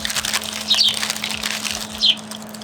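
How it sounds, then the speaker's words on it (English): Small birds chirping near a mountain picnic in Switzerland, a few short bright tweets close by over quiet outdoor ambience, with two sharper calls standing out. "Some birds want in on our lunch"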